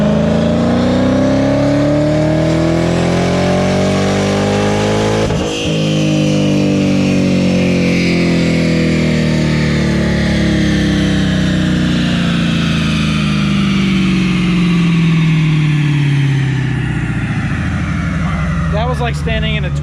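Supercharged Dodge Hellcat Redeye engine on a dyno, screaming at full throttle with a loud rising howl and supercharger whine that sweeps up, drops, then climbs again in long, very close pulls.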